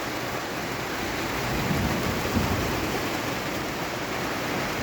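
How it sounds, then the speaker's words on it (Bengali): Steady rain pours across a wide area, with low rumbling thunder swelling in the middle and a light wind, heard without any voices. "এখন মেঘ গুড় গুড় করে ডাকছে, বৃষ্টি হচ্ছে, বাতাস হচ্ছে অল্প পরিমাণ।"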